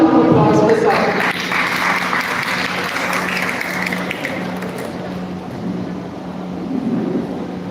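Applause from a crowd, dense and steady for several seconds, mixed with a low hum and some room noise.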